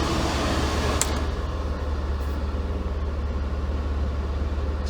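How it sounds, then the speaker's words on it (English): A Mercedes W124's climate control blower fan runs steadily at low speed, a constant near whir with a low hum and broadband air rush, with a faint click partway through. "Watch, I turn this blower to low."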